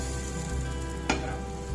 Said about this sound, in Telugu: బ్రెడ్ మనకి ఈవెన్గా ఫ్రై అవ్వడం కోసం ప్యాన్ అంతా కూడా ఇట్లాగా మనం కొంచెం తిప్పుకుందాము